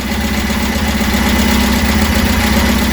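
The small engine of a Reliant Supervan 3 idles steadily at close range, a loud even ticking-over throb with a rhythmic mechanical pulse and no voices.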